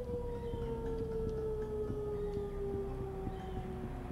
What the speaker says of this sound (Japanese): サイレンが鳴っている。